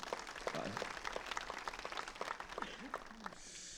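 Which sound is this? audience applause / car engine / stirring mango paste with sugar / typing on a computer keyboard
audience applause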